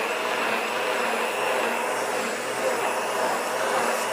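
JTC OmniBlend blender whirs steadily on its low setting with water in the jar, a constant close motor roar without breaks.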